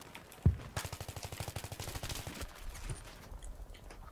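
Rapid automatic gunfire in a video game team deathmatch, a sharp shot then a dense rhythmic burst lasting about two seconds, followed by scattered quieter shots and rumble.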